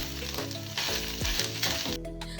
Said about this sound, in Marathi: आपण खोबरं हे पाच मिनिटासाठी परतून घ्यायचं